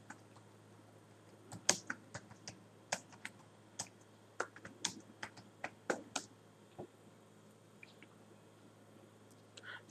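Computer keyboard typing a search term about natural herbal skin care, a quiet, uneven run of close key clicks in short bursts with brief pauses, no voices.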